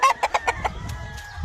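An Albany gray hen clucks in a quick run of about five short, evenly spaced notes close to the listener, then trails off into quieter, fainter sound.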